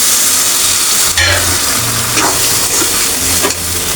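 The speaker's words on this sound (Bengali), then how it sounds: "আমি হালকা একটু পানি দিয়ে দিলাম," A splash of water hitting hot frying turmeric and chili spices in a pan, giving bursts of hissing steam and sizzle with a few stirring scrapes, close and loud.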